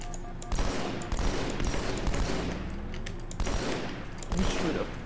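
Rapid Halo 2 gunfire, dense bursts of automatic shots running nearly nonstop at close range, with a brief gap and a voice speaking over the shooting.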